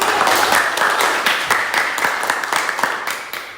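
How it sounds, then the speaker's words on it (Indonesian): A classroom audience applauds a student group's presentation with loud, close clapping from a small crowd. A few sharp individual claps stand out, and the sound tapers off gradually toward the end. "berikan tepuk tangan dulu ya"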